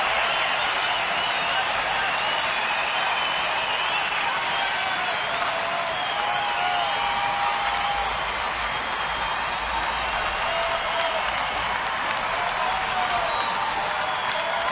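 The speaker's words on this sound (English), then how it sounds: "And here comes the crowd." A baseball stadium crowd of nearly 36,000 cheers and claps at a Minnesota Twins game in Detroit, a loud sustained roar of applause that fills the whole stretch without a break.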